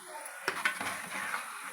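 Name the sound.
stirring coconut powder into chicken fry in a pan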